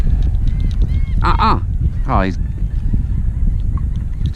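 Birds squawking and honking while fighting over a topwater fishing lure, two loud harsh calls close by over wind and water noise, with someone speaking briefly.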